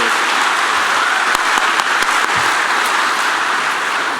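Sustained audience applause at the HackMIT 2014 closing ceremony, a steady dense wash of clapping from a large crowd for the teams and judges, loud and continuous throughout.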